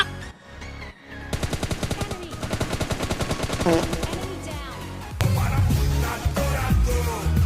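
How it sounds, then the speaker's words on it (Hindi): Rapid bursts of gunfire rattle in quick succession, then heavier overlapping shots with echoes, loud and close, like a video game firefight. "पीछे से गोली चलने लग गई"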